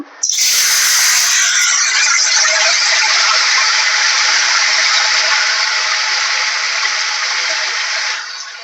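Fenugreek leaves hit hot oil with a sudden, loud, sustained sizzle, an intense hiss that continues almost unchanged for several seconds before easing slightly at the end. No one speaks.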